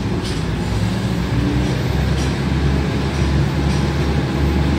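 Thai commuter train on the Maha Chai to Wongwian Yai line heard from on board: a loud, steady rumble of wheels and carriage with a constant low roar and faint periodic rattles, no voices.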